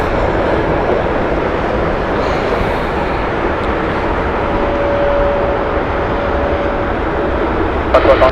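An inbound Boeing 747 from Baku approaches Heathrow Airport, its broad, steady engine roar filling the scene with a constant wash of noise and a faint tonal whine in the middle.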